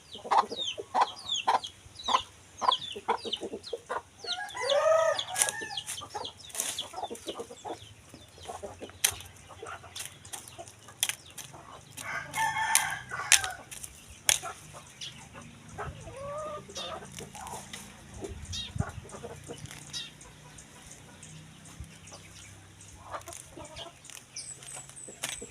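Chickens cluck near and far at a rural Philippine home, with a rooster crowing several times at a moderate distance and scattered clucks continuing throughout at a fairly low level.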